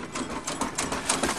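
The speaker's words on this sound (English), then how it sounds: "Okay, crank again." A 1975 Chrysler New Yorker engine cranks over on its first start attempt, a brief rapid mechanical whirring and chattering that is steady and fairly close.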